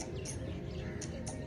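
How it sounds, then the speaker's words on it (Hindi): Birds chirping at sunset by Noor Mahal in Bahawalpur, a few faint high tweets scattered over a low background rumble, distant and sparse. "चिड़ियों की चहचहाहट"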